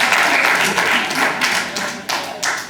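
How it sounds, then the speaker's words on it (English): Audience at a graduation ceremony claps, with a loud, uneven patter of hand claps and distinct sharp slaps standing out near the end, fairly close. "And you got a clap for Mr. Bass."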